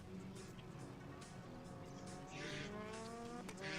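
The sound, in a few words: race cars passing at Druids, Brands Hatch GP circuit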